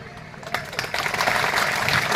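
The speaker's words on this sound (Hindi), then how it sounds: "ताली मत बजाओ।" Audience applause at a Tantya Bhil statue unveiling ceremony in Madhya Pradesh, swelling after a brief pause into steady, dense clapping that continues under the room's reverberation.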